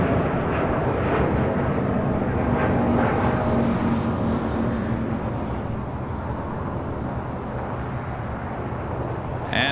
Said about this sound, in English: the Korean Air Flight 11 A380 Super now making its way to the gates here on the south side